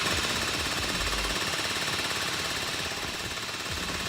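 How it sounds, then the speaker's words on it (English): A drill bores into a vault door during a heist video game, making a continuous, fast mechanical rattle at a steady, moderate level that runs without a break and with no talk over it. "Drill's working!"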